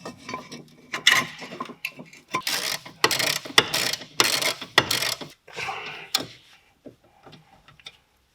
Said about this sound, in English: let's put back a wheel bolt, so at least it stays at its place